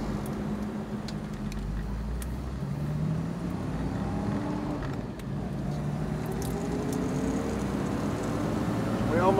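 A Toyota Land Cruiser drives along a paved road, its steady engine and road rumble continuous and close from inside the cabin, with faint voices over the drone.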